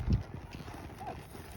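A horse's hooves clip-clop in a steady rhythm close by, with one heavier thud at the start and a quiet outdoor background.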